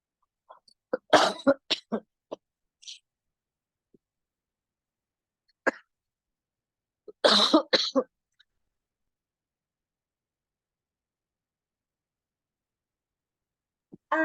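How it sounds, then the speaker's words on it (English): Several sharp coughs in two bursts, the second a quick cluster, separated by quiet pauses; close and fairly loud. "why are you coughing so much today?"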